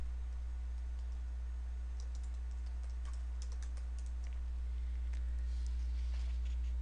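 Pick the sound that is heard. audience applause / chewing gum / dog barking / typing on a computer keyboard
typing on a computer keyboard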